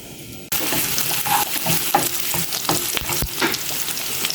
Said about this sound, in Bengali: আমি হালিমটা বাগার দেওয়ার জন্য শুকনো মরিচ রসুন কুচি ভেজে নিচ্ছি